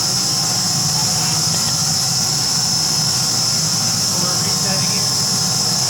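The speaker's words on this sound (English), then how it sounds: "we're supplying steam right now to the pump. So now it's on." A steam plant simulator gives off a steady, loud broadband roar and hiss as steam is supplied to a pump, holding constant and unbroken throughout.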